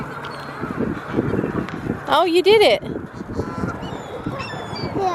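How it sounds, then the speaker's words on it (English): Geese honking beside the water on an outdoor weekend outing, a short burst of loud nasal honks mid-clip heard over people chatting nearby and some wind. "There's some gooses."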